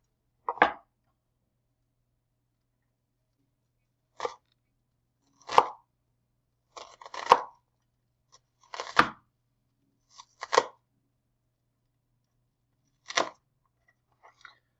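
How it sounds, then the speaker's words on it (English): A knife chops a regular yellow onion on a board in sparse, separate close taps with quiet pauses between them, about nine cuts in all. "You start by dicing the onion"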